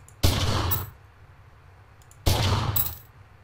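Gunfire in the video game Omerta: City of Gangsters, two loud bursts of rapid automatic shots roughly two seconds apart, each lasting over half a second, with a quiet lull between.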